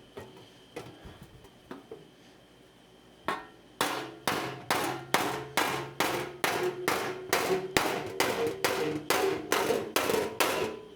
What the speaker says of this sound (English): So I'm just using my piece of railway anvil, and I'm just going to lightly, using my hammers, bring it around.